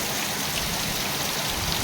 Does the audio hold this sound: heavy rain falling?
yes